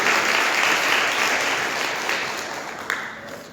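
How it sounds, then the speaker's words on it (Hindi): A church congregation at a Sunday service claps together in thanks to God, a dense, steady wash of applause filling the room and slowly tapering off. "ताली मार के धन्यवाद करेंगे परमेश्वर के वचन के लिए।"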